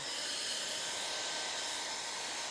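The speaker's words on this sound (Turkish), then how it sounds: "Al sana fön makinesi bu ürünle çalıştırabiliyorsun." A hair dryer powered by a Patona 9989 Platinum portable power station at a campsite blows with a steady, loud, broadband whoosh that holds unchanged for the whole stretch, with no talking.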